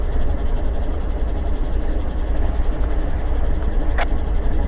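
Locomotive moving in a rail hump yard while building an outbound train, a steady loud rumble with broadband noise and a brief high screech near the end.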